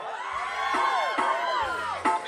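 A crowd cheers and whoops at a kathoey beauty pageant held during a New Year celebration in Chiang Saen, with loud rising shouts and whistle-like calls swelling over a steady roar.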